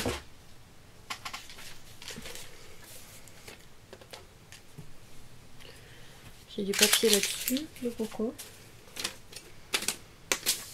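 A paper trimmer (guillotine cutter) slices paper for a handmade vintage-style men's card, giving sharp clicks and a short scraping cut burst, with a person talking nearby.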